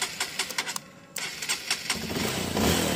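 A trail motorcycle engine cranks with rhythmic starter pulses, fires after a short pause and settles into a steady, close idle.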